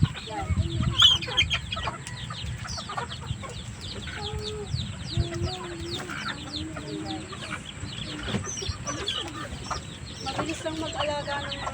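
Backyard chickens cluck and chatter continuously in soft, overlapping bursts, close by, with scattered bird calls and faint background noise.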